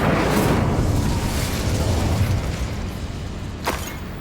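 An Incendio fire spell in Hogwarts Legacy bursts out in a loud, dense whooshing blast that roars and slowly fades over several seconds, with one brief sharp crack near the end.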